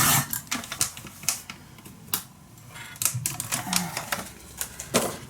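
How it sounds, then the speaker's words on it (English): Paper for a handmade wedding mini album is trimmed close by, with a series of sharp, quick snips and crisp cuts at an uneven rhythm. No one speaks. "So I'm just going to cut this, and I'm cutting 2 millimeters shorter"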